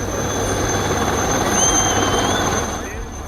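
An army helicopter during a rescue operation gives off a loud, steady rotor-and-engine drone that holds throughout, with a faint voice partly over it.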